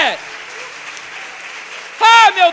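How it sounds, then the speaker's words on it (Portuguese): A church congregation claps and applauds during a Catholic healing service honoring the Blessed Sacrament, a broad steady wash of applause that fills the clip, with a voice shouting over it near the end. "Aplauda o Santíssimo Sacramento, igreja"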